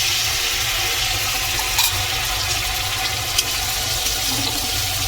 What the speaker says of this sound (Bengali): মশলাটা ভালোভাবে কষবে, তাই তো?